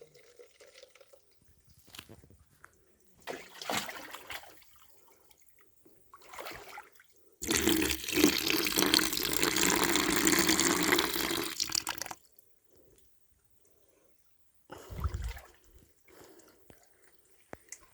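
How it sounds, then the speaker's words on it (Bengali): Water falling inside a hill in the Mirsarai hills of Chittagong, heard as bursts of rushing, splashing water, loudest for several seconds in the middle, separated by quieter gaps. "একটা পাহাড়ের ভিতরে কিভাবে পানি পড়তেছে দেখেন ভাই"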